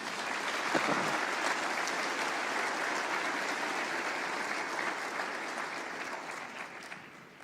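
A church congregation applauding, a steady dense roar of many hands clapping that holds for several seconds before gradually thinning toward the end.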